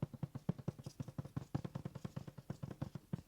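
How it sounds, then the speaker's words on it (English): Fingertips tap quickly and rhythmically on taut fabric stretched in a hand embroidery hoop, giving a soft, hollow drum-like patter of many close, even taps, heard alone and fairly quiet. "We want our fabric to sound like a drum while it's in the hoop,"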